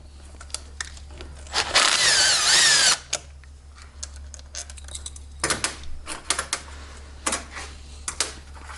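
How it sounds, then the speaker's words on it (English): A power tool drives loose the 10 mm bolts on a scooter's final drive gear housing, one loud sustained whirring burst followed by short ratcheting spurts and clicks, up close with no talk. "so now we'll just loosen these bolts, these 10 millimeters"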